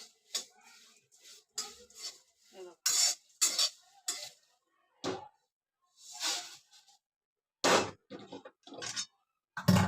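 Flattened rice (poha) being stirred and roasted in a pan over medium heat for chivda, giving repeated short scraping and rustling strokes in irregular bursts with brief pauses, close and moderately loud, with no talk.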